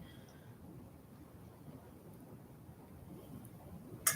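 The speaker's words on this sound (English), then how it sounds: "this rain is coming down like crazy" Heavy rain pours down in a steady low rumbling wash with distant thunder mixed in, heard from indoors at a moderate level with no talk.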